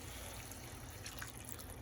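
A little water is poured into a pot of yellow rice with red beans, giving a steady, faint trickling and splashing hiss that runs through the brief moment.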